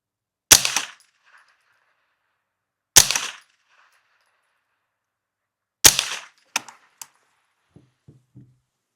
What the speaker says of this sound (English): I'm going to shoot at that bottom one.